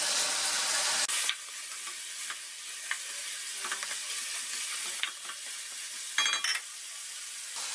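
Shallots hit hot butter in a pan with meat, a loud bright hiss of sizzling that holds steady, with occasional light clinks and a fresh surge of spitting near the end.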